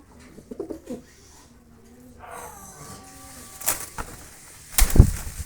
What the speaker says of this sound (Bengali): যথেষ্ট পরিমাণ ডাকে কবুতরটা